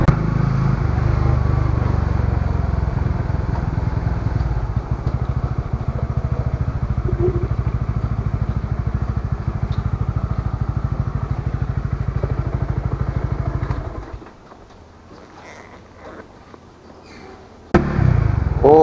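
Traffic noise dominated by a motorcycle engine droning close by, then fading abruptly to a quieter background before a sharp clatter near the end.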